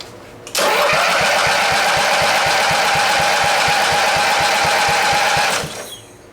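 An Allis Chalmers tractor engine runs loud and close at part throttle, a steady, evenly pulsing exhaust beat that starts abruptly and tails off near the end.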